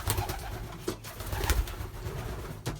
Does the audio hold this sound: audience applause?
no